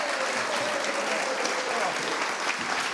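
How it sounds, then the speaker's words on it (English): An audience at a live art talk with Scott Christensen and Quang Ho applauds. The clapping is dense and continuous, with a crowd of hands going steadily throughout, and a voice sits faintly underneath. "one last round of applause for Scott Christensen and Quang Ho"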